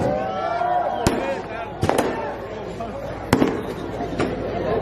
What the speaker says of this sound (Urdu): یہ جو پٹاخے بازی ہو رہی ہے یہ ہم نہیں کر رہے